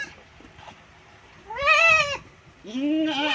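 A mother goat calls for her kid with two drawn-out bleats, close and loud, after a quiet stretch with faint background sounds.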